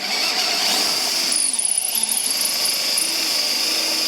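A drill drives a screw into a camper van's wooden floor with a continuous high, whirring hum, close and loud, holding steady for the full few seconds.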